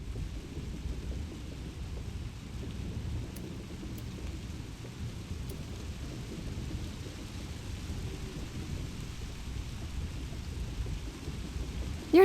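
Steady wind and drizzle sweep a storm-lashed coast in a fantasy strategy video game, a constant low rushing wash with faint rain patter and occasional distant rumble, no voices.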